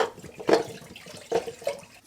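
The PVC pipe of a sump pump is pushed into water, making a few short splashing gurgles close by.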